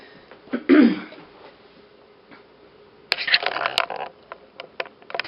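A single rough cough near the start, then a stretch of quiet followed by rustling and clicking movements close by.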